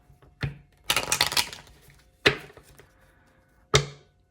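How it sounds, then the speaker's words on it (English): Tarot cards are shuffled by hand in short bursts: a quick papery riffle of about half a second, followed by a few sharp isolated taps and snaps as the deck is squared, heard close and alone. "one more shuffle."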